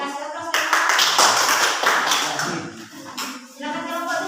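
A classroom of students applauds after a group presentation in an economics lesson, a dense burst of clapping rising quickly, holding steady, then thinning and swelling again near the end, with some shuffling and a few voices mixed in.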